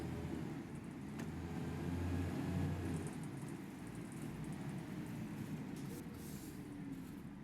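A Volvo B10 bus on a simulated route hums along at a steady low rumble, the engine drone constant and moderately loud with faint rattles above, no voices.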